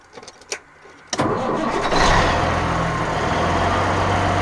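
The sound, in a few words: Jake engine brake on a 1985 Freightliner FLC truck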